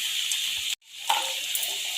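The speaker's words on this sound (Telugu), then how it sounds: "టమాటాలు వేస్తున్నాను." Tomatoes are added to a sizzling pan for okra curry. A steady sizzle cuts out abruptly for a moment, then returns with a louder burst of crackling and settles back into a continuous frying hiss.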